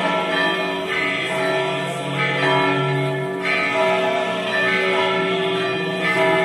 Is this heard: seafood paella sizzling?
no